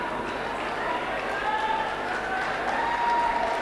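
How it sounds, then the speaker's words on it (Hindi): An audience claps steadily for a poet at a live event at SISTEC, a dense continuous patter of applause at moderate loudness that carries unbroken throughout. "आपने जो घनघोर तालियां बजाई हैं उसके लिए मैं बहुत आभारी हूं"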